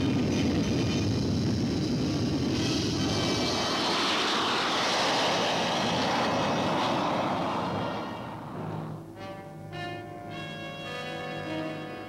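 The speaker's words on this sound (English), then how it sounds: "Note that on the takeoff roll, the outrigged gear drop off as the plane picks up speed." A U-2 spy plane takes off, a loud, sustained jet roar filling the scene for several seconds before easing off, after which music plays over a quieter background.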